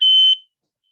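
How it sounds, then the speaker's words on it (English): A household smoke alarm goes off with one loud, piercing electronic beep lasting about a third of a second, close and alone, then silence. "my mom just set off the smoke alarm in my house."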